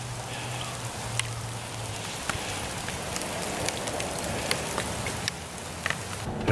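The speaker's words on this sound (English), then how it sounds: "9 miles in either light rain or heavy rain, but I don't think it ever stopped" Heavy rain falls steadily during a walk in Savannah, a constant close hiss with scattered sharper drop ticks and no talking.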